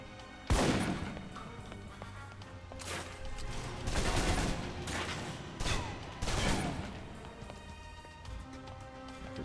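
Gunfire in the Alpha Protocol video game, mainly assault rifle: loud sharp shots and short bursts in several clusters across the stretch, with crashing impacts between them.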